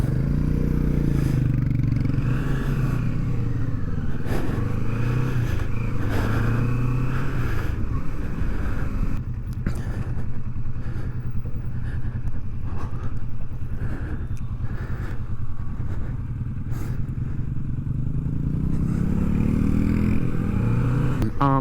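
Royal Enfield Meteor 350 motorcycle engine running steadily through a ride with tight turns, a continuous loud low rumble with wind and road noise, close and without talk.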